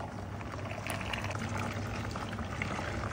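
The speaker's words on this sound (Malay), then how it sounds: "Okey, terus kita akan cuci daun pandan lah." Pandan leaves being washed in water while making cendol, a steady wash of splashing and running water that holds at an even level throughout, near and continuous, with no talking.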